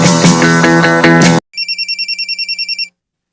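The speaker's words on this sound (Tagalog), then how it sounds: "BFF, imong cellphone ni Bagting" Mobile phone ringtone playing loud and close, a repeating electronic tune with a beeping pattern that follows a short burst of music and stops after about a second and a half.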